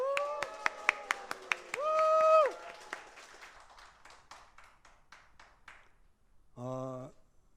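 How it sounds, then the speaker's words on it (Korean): A crowd at the opening of a rural rally in Hongseong claps in scattered, uneven bursts, with a brief shout of cheering. The clapping thins and fades, and a voice comes in near the end. "여러분들의 뜨거운 박수와 함성으로"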